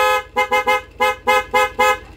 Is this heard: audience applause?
no